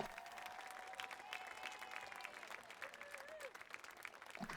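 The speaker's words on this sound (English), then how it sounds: "Fans, one more round of applause for Chapman Athletics 2015 Hall of Fame inductees" Steady applause from stadium fans honoring Hall of Fame inductees at a college football game, a continuous distant wash of clapping with faint tonal whistles and crowd noise mixed in.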